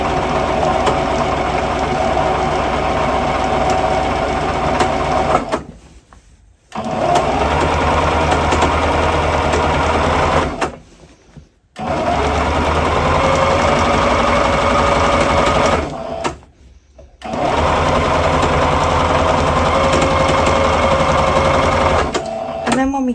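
A domestic sewing machine runs a straight gathering seam through fabric with no back tacks, its loud steady whir coming in long bursts broken by three brief pauses before the stitching resumes.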